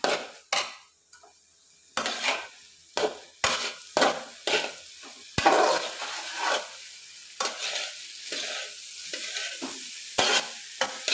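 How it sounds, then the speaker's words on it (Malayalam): Thoran, a vegetable stir-fry, stirred in a frying pan: repeated scraping and clinking of a utensil against the pan in an uneven rhythm over a steady soft sizzle, close and alone. "എന്നിട്ട് നല്ലപോലെ ഒന്ന് എല്ലാം കൂടെ മിക്സ് ചെയ്ത്"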